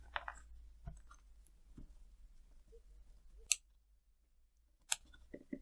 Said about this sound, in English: So the easiest way is just cut through all the loops.